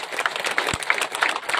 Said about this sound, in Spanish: les voy a pedir un minuto de aplauso para él